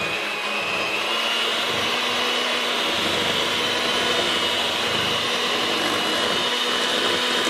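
An electric mixer beating flour into cake batter for a German chocolate cake, a steady loud whirring motor drone running continuously and close, with no voices.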